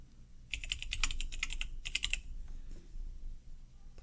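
Rapid keystrokes on a computer keyboard entering a password on an Ubuntu desktop, several quick bursts of clicks close to the microphone, then quieter room noise with no talking.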